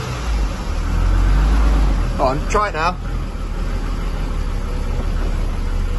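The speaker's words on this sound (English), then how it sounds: "Run the car again so there's a bit more juice going through it." A Jaguar XJ-S engine runs steadily as a constant rumbling drone throughout, with people talking briefly over it.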